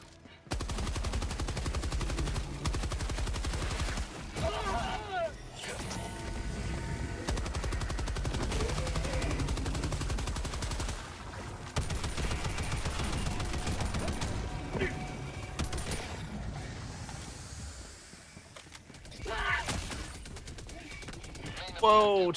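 An automated turret in Helldivers 2 fires long, loud sustained bursts of rapid gunfire with brief pauses, mixed with mechanical clanks and occasional voices.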